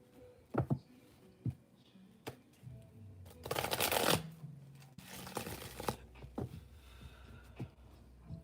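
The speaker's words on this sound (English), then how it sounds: "let's get a good shuffle" Tarot cards being shuffled by hand, with repeated riffling and sliding bursts, a long dense flurry in the middle, fairly close and moderately loud with no talking.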